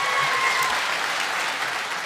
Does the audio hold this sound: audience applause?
yes